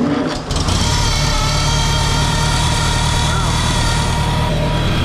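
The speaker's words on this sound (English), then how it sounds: "we're gonna, for fun, run it for a moment without the valve cover" Farmall 140 tractor with a C123 engine idling in neutral with its valve cover removed, a steady, loud, close mechanical running drone with rapid valvetrain clatter throughout.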